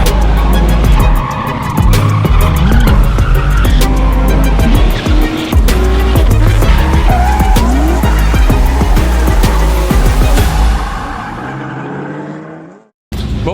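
Nissan S13 drift car with an RB25 engine screaming around a track, loud and continuous, revs rising and falling with tire squeal, heard from inside the car until a sudden cut near the end.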